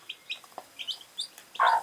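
Newly hatched kienyeji chicks peep in quick, high chirps beside their brooding hen on a poultry farm, with a louder, fuller call near the end.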